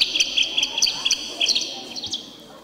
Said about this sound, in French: C'est les oiseaux qui arrivent!